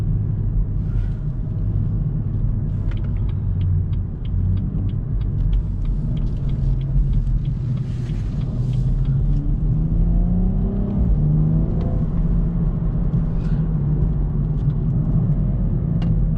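BMW M135i under way with the driver working the paddle shifters, a steady low engine drone throughout with rising and falling pitch sweeps as the gears change, close and continuous with no talk.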